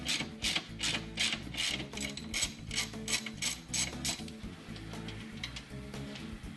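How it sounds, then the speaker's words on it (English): A ratchet with a 10mm socket loosening the outer strut tower bolt on a 2013 car during a hood lift kit install, rapid repeated clicking pawl bursts in a regular rhythm, close and clear, no speech. "We're going to start by loosening the outer bolt on the strut tower. Take the 10mm socket."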